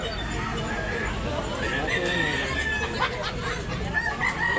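At a busy chicken market in Tabunok, Talisay, Cebu, a rooster crows among caged fowl for sale, its calls sounding close over clucking and a dense hubbub of people talking.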